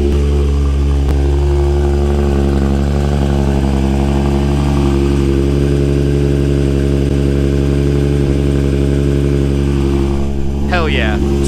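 A Toyota Supra with a freshly rebuilt turbo idles steadily and loudly close by, a deep constant engine rumble throughout with a brief higher chirp near the end.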